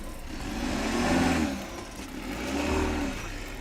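A BMW X3 SUV crawls over an off-road course, its engine swelling and easing in two broad, steady surges of mid-pitched drone with no voices.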